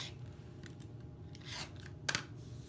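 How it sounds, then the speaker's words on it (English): Scissors snipping through cotton fabric for a pumpkin quilt block, quiet soft slicing strokes ending in a sharp close snip near the end, with no talking. "I'm going to go ahead and cut these two sides again."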